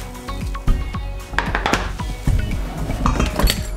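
Homemade pizza coming out of an oven preheated to 450, with loud close clanks and clatter of a metal pan and rack, several sharp knocks and scrapes in quick succession.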